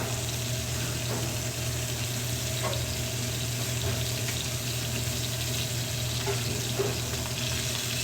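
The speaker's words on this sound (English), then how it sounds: "Now that this has had enough time in the frying pan," Steady frying sizzle from a pan, a continuous crackling hiss with occasional small pops, fairly close and even throughout.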